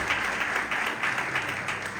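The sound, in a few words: church congregation applause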